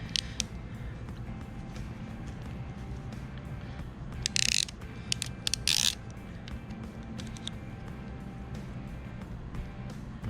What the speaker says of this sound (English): Then there's a crimping tool